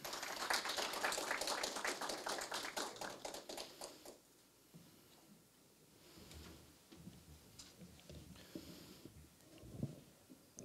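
Audience applause at a Korea University KU-KIST graduate school degree ceremony, a burst of clapping for about four seconds that ends abruptly, followed by faint rustling and taps in a quiet hall.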